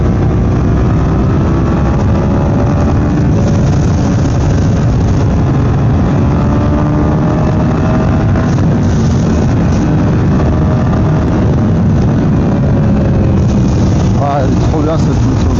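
A Suzuki SV 650 S motorcycle engine revs and pulls away on a mountain road near the Col des Prés, a loud, steady low rumble that rises and falls, with someone talking over it throughout.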